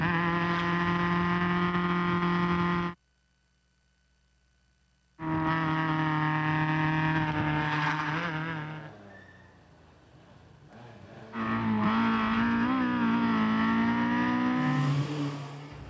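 Loud race car engines roar and rev in long passes up a hill climb course near Chimney Rock, North Carolina, broken by a brief silence, their pitch rising and shifting as they climb.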